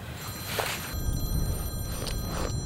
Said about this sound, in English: Oh, no phone calls, remember?